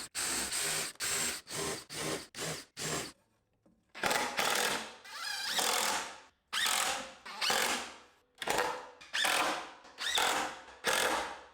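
Short repeated bursts of a power drill whirring, about a dozen pulses, some quick and some longer as screws are driven into pre-drilled wood for a pizza oven stand, close and with no talking.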